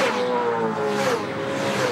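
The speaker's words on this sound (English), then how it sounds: "the race cars coming off the final corner?" V8 Supercars race cars in the 2007 Oran Park 400 roar off the final corner, a loud sustained engine drone with rising and falling pitch as cars accelerate past, filling the whole two seconds without talk.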